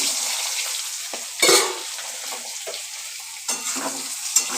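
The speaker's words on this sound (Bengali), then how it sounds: "এবার একটু নাড়াচাড়া করছি তেলের মধ্যে" Fried potato and pointed gourd stirred in hot oil, a steady sizzle broken by several scraping stirs of a spatula against the pan, close and clear with no talk.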